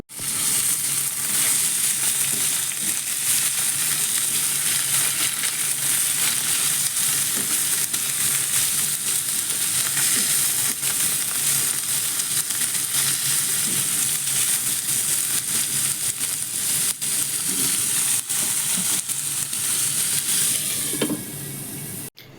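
Steady, loud sizzling of dal and vegetables frying in a pan with water and tomato added, filling the whole stretch, with occasional stirring scrapes near the end.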